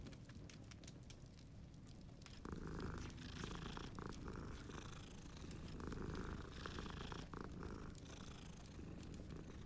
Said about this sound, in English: Two kitties.